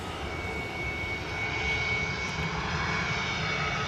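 An Airbus A321neo taxiing past at London Stansted Airport, its engines giving a steady, loud roar with a continuous whine as it rolls by close at hand.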